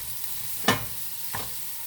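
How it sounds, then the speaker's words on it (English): Onions frying in a pan for a homemade meatball and sausage sauce, a low steady sizzle with two short stirring scrapes, the first louder, no talk. "You just want to cook this until that you see that the onions are starting to turn a little translucent"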